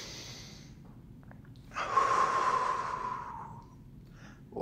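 A long, deep exhale during a seated yoga twist rises out of quiet, swells into a breathy rush, then fades slowly. It is close and alone, with no talk.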